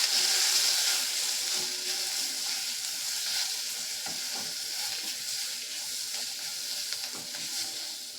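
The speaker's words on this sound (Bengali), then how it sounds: "তো এবার এগুলোকে ভালো করে আমি একটু কষিয়ে নেব।" Sliced ridge gourd sautéing in a pan with salt and turmeric, a continuous close sizzle and hiss with occasional scrapes and stirring clinks, steady and fairly loud, no speech.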